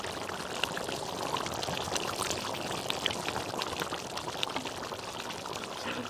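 Raw coconut oil poured into a Kerala curry, a steady close trickling and splashing stream lasting several seconds with no voices over it.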